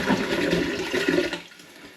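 Cold water gushing steadily into a plastic brew bucket sitting in a sink, a loud, close, full rushing pour that tapers off near the end.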